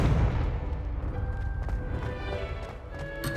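A blasting-spell explosion in Hogwarts Legacy gives a low rumbling boom that fades over a few seconds, with faint crackles and a brief tonal shimmer, fairly quiet and heard alone.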